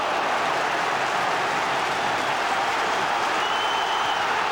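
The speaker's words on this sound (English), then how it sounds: "That's really got the crowd going." A football stadium crowd applauds and cheers after a goalkeeper's save during a Liverpool v Genoa UEFA Cup quarter-final, a dense, steady roar of distant clapping that fills the whole stretch.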